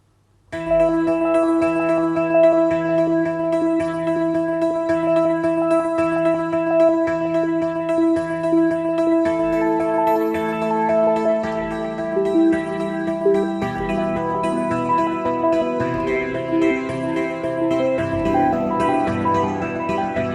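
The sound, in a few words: Motion Keys synth preset Preparing for Launch, Sample Logic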